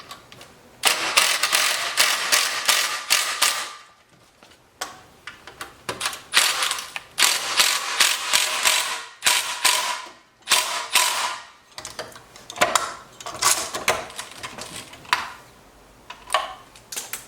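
Bolts being tightened down on a wooden clothes valet with a ratcheting tool: close, loud bursts of rapid clicking ratchet strokes in several runs, separated by short pauses.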